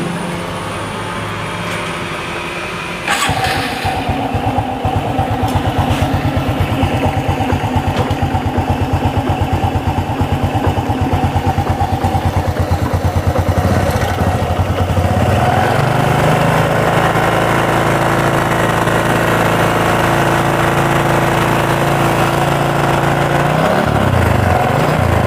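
A Honda Supra X 125 motorcycle engine, one with a rough ticking fault, is kicked over and fires up around three seconds in. It then settles into a steady, loud idle that rises slightly in pitch partway through and holds close to the recorder, with no talk.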